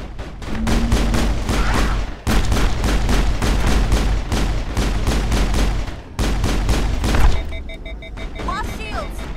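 Rapid pistol fire in Mass Effect 1, loud, sharp shots repeating nearly nonstop with a brief gap, mixed with game effects and a chiming tone near the end.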